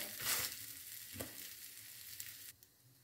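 Ground beef browns in a pan for a burger wrap, giving a quiet, steady sizzle with a spatula scrape or two and a brief knock, and the frying hiss drops off near the end.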